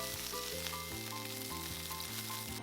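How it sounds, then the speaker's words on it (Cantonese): Pork chops fry in a hot wok with a soft, continuous sizzle that crackles faintly and steadily, set beneath quiet background music. "將每一面煎大約2至3分鐘，煎到豬扒金黃"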